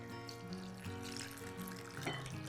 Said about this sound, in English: And we will rinse it with very cold water